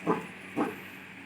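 Dogs at a family home give two short, moderately loud barks about half a second apart, heard over a faint, steady background hum.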